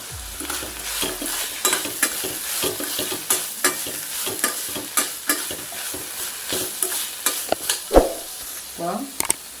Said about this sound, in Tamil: ஒரு பெரிய பத்தை தேங்காய் இதையும் போட்டு நல்லா வதக்கிட்டு